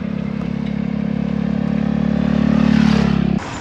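A motorbike engine drones steadily and loudly at close range during a ride, holding a constant low throbbing note before dropping off near the end.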